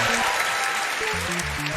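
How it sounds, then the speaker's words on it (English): Live audience applause at the AGDQ 2020 speedrun event during a Super Mario Maker 2 blind level race: a steady wash of clapping under short electronic game tones and jingles. "The crowd goes wild."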